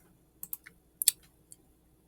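A few sharp clicks from a computer mouse, with single clicks and quick pairs spaced through a quiet stretch, close and fairly soft.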